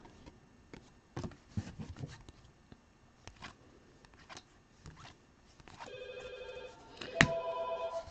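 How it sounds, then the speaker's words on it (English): A landline telephone rings indoors during a sports-card break session, its electronic bell sounding in two close bursts near the end after quiet rustling and handling noises. "Let me just pick up the phone and hang it up so it'll stop ringing."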